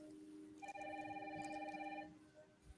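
An old-style telephone bell rings in a game trailer scene, a single sustained ring of about one and a half seconds set against a soft background of steady rain.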